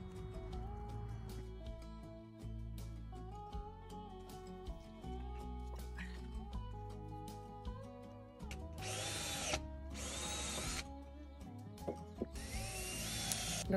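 A power drill drives long screws into a wooden garden bed, its steady whirring motor humming throughout with pitch shifts, then three loud, high-revving bursts near the end as the screws bite in close to the microphone.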